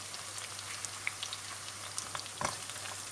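Fresh garlic and ginger fry in hot oil with a steady, fine sizzle and crackle, a few sharper pops and a scrape of stirring near the end, and nobody speaking.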